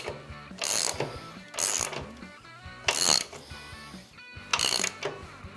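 A ratchet wrench tightens a motorcycle rear wheel axle during a chain kit installation, giving four quick bursts of rapid clicking separated by short pauses, close and clear with no talk.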